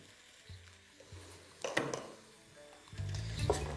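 Ground spices sizzling and frying in a pan with chicken for khichdi, intermittent bursts of crackling hiss with a stir partway through, close and moderately loud.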